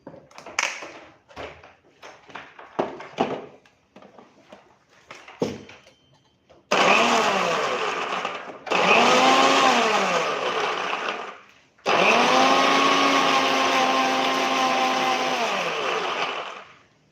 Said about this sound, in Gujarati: ચાલુ બંધ કરી અને ચટણી મસ્ત એવી આપણે પીસી લેશું